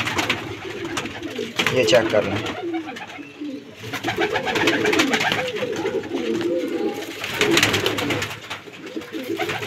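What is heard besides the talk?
pigeons cooing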